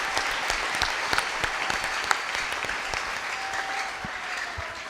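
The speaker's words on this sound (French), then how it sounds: "Acclamons pour l'Éternel." A congregation applauds at a Sunday service in the Tabernacle Chrétien de Kasika church, with dense, steady clapping at even loudness throughout and no clear talk over it.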